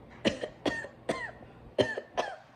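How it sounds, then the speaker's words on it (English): Five short, harsh coughs in an uneven series, close by, each with a rough throaty burst. "I coughed, I feel like, all night long"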